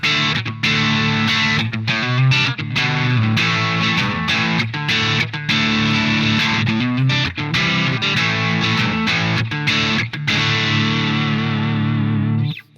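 Electric guitar through an iOS amp simulator set to a Jazz Chorus-style amp with a little crunch distortion and chorus, playing a steady run of full, shimmering chords and notes, loud and close with no voices.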